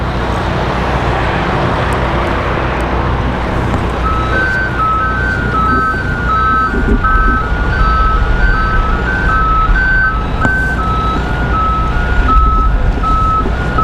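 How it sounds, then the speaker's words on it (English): An airport fuel truck reverses across the apron with a steady, repeating backup beeper sounding loud and close over a continuous diesel engine rumble and surrounding airport noise. "We've got a fuel truck"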